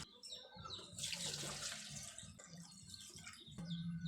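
Water is scooped and poured into a pot of wrapped rice parcels, giving a steady, close splashing and running-water sound across the clip, with a faint bird in the background.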